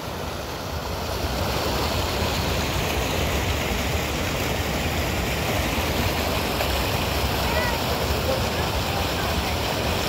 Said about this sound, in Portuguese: A lapada d'água, água demais!